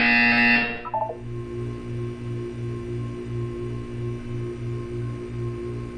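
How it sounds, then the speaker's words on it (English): In the video game Portal 2, a brief electronic tone cuts off, then a low buzzer pulses in a steady repeating rhythm over a constant electronic hum. "You will hear a buzzer."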